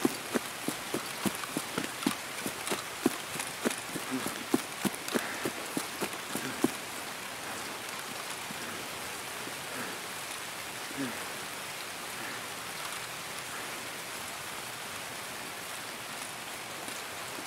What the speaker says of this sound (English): See how much better the rain is with the contacts?